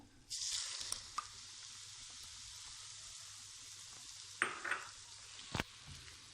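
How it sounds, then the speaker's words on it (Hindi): Eggs hit a hot pan of fried semolina for suji halwa and start a bright, steady hiss right away. Nearby utensil clinks and scrapes break through the sizzle, and no one speaks. "अब इसमें अंडे डालते हैं।"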